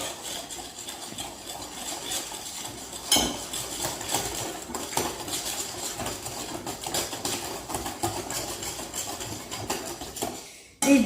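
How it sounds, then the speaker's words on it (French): Boiled cream and milk are mixed into a bowl of flour, egg yolks and sugar, with steady whisking, clinking utensil strokes and occasional knocks against the bowl, close by and fairly even, without speech. "On va directement commencer à mélanger."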